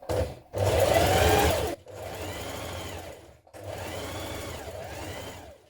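Sewing machine running in bursts while understitching a dress pocket seam a couple of millimetres from the seam line: one loud steady run, a short pause, then two quieter sustained runs, with no talking.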